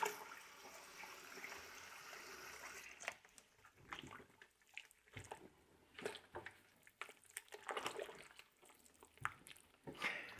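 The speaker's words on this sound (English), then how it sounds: "So let's add a little bit more water and then mix it up." Water is splashed and stirred into dry pottery glaze materials, with irregular wet sloshing, dripping and squishing bursts close by, starting fairly steady and then breaking into separate splashes and stirs.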